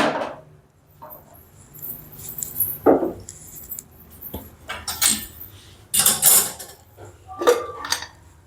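Metal kadhai pan being picked up and set down on a gas stove, giving a few close, irregular metallic clanks and clinks with quiet gaps between them.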